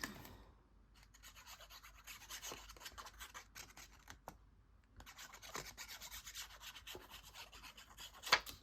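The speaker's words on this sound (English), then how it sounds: "get my spatula so I can burnish it" A spatula burnishes paper for a decorated envelope, making soft, close rubbing strokes in uneven bursts with short quiet gaps between them.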